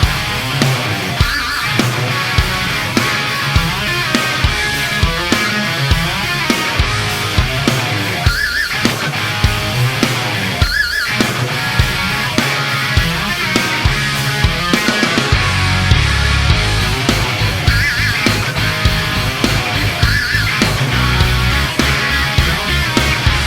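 Electric guitar chugging the main riff of a song with tight heavy metal palm muting, a fast, dense, loud driving pattern with sharp rhythmic accents, played alone without talk.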